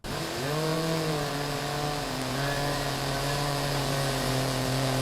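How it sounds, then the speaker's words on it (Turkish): A giant saw grinds through iron with a loud, steady whine, its pitch dipping then holding level throughout, alone and close. "Bir adam dev bir testereyle demirden bir elmayı kesiyor."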